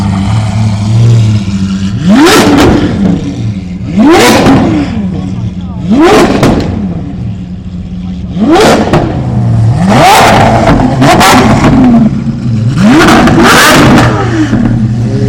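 A modern V12 supercar at a crowded car meet in a housing estate revs again and again, roughly six loud, close blips that climb and fall away, with crowd chatter beneath them.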